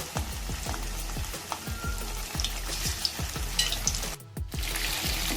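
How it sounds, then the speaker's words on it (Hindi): Chicken pieces frying in hot oil give a continuous crackling sizzle, with repeated sharp spoon taps and scrapes against the pan in an irregular rhythm. A brief quiet gap falls near the end. "अब मैं चिकन को फ्राई करने लगा हूँ।"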